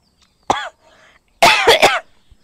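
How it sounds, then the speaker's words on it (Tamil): A single sharp cough, then a brief pause and a loud burst of two or three more coughs in quick succession, close up. "என்ன இருமல் வருதோ?"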